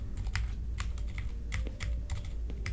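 Keys clatter on a computer keyboard in uneven bursts of sharp, close clicks and taps, typed alone with a low hum underneath and no voices.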